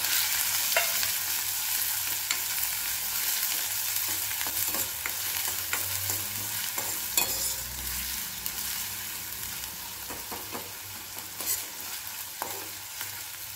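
Cumin and finely chopped onion sizzle steadily in hot oil, a dense continuous hiss with occasional stirring clicks and scrapes, close up and constant throughout.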